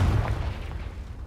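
A Confringo spell explodes in Hogwarts Legacy, a heavy low boom at the start that quickly settles into a dull rumbling tail.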